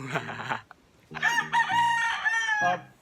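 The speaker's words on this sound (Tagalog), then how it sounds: "kayong mga manok, huwag kayong mag-ingay" A rooster crows loudly nearby in a long, drawn-out call, with hens clucking just before and after.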